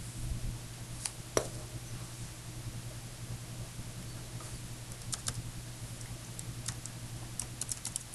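Several quick, faint key presses tap on a calculator keypad, spaced irregularly over a low steady hum, with no talk.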